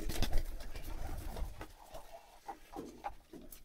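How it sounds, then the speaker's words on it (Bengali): Pigeons coo softly while being fed wheat, several low calls with light pattering of pecking grain, fairly quiet and close, no talking. "দেখেন গম খাবারটা খাওয়াইতেছি কবুতরকে"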